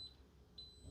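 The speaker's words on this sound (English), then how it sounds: "there is the alarm you will get when it ends" End-of-cook alarm from an Instant Pot Duo Crisp pressure cooker and air fryer: two faint, short high electronic beeps about half a second apart, over a low background hum.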